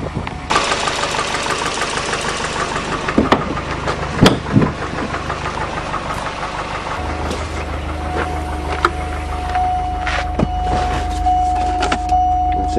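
Volvo turbo car on a test drive after a radiator hose repair, with a steady engine drone and road rumble inside the cabin, occasional clunks and knocks, and a faint whine later on.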